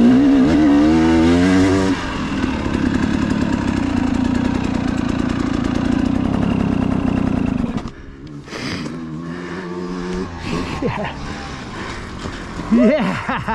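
Dirt motorcycle engine on a singletrack trail in Rico, Colorado, running steady and loud at close range, then dropping and revving in short throttle bursts, with voices talking over it.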